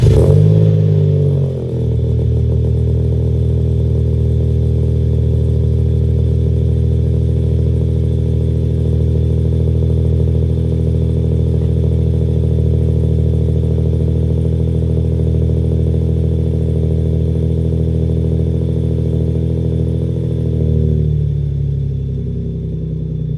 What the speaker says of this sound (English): So that's what a cold start sounds like.